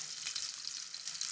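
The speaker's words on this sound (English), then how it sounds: "But listen for that sizzle." Bread fries in hot oil in a pan, giving a continuous soft, crackling sizzle that stays even and fairly quiet throughout, with no voices.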